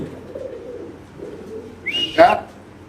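A ringed red male pigeon at a pigeon farm gives soft low coos over a faint background hum, followed by a brief sharper call near the end.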